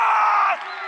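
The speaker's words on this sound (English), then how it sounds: "And here is the crowd cheering up their favorite sides." Cricket crowd at a Kabul premier league match roaring and whooping in a loud continuous wash of cheering that eases slightly toward the end.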